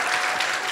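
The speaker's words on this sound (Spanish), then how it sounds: "Aplauso para Fede que lo respondió." Studio audience clapping for a guest named Fede on a Spanish-language talk show, a short, dense burst of steady applause with no voices over it.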